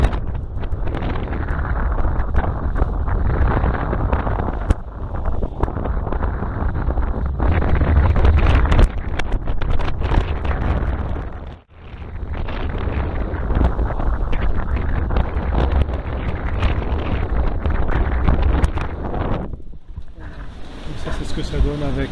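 Loud, constant strong wind roars across the microphone at sea aboard a boat, with rushing sea noise of about two-metre swell beneath, buffeting in long gusts with one brief lull.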